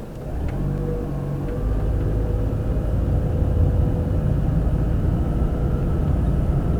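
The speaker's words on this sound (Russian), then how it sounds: "Теперь точно так же нажимаю на газ." A Mercedes W203 car accelerates with the gas pressed in comfort mode, giving a deep engine rumble that swells smoothly and holds steady, heard from inside the cabin with no talking.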